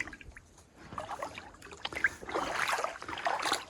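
Water sloshes and trickles as it is collected from a muddy, tannic stream in Florida's Apalachicola National Forest, close and fairly steady, with splashing growing busier in the second half.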